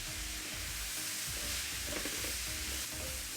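Carrots and chopped cabbage stir-fry in a pan for vegetarian fried noodles, a soft steady sizzle with repeated stirring and scraping, fairly quiet and close.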